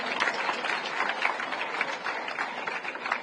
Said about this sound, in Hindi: जोरदार तालियां मैम के लिए बजाओ मैम